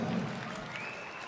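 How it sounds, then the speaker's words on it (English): Crowd applause fills an arena after a continental light middleweight championship boxing bout, a dense, steady wash of clapping that holds at an even level for the whole moment. "A round of applause for the gallant Zoltan Sera"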